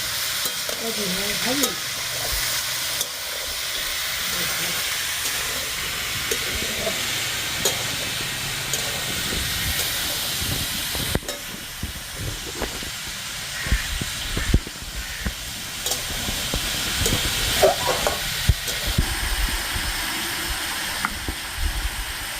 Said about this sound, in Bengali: দেবো আমরা আলু। নেড়ে নেব।